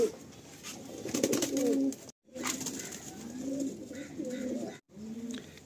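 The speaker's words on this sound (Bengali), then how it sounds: "ওইদিকে রেডি ফর ব্রিডিং পায়রা, আর এদিকে হচ্ছে 2টো পায়রা ফের ছাড়া হলো।" Pigeons coo on a rooftop loft in Kolkata, several birds giving soft, rolling low calls close by, with brief gaps and light background noise.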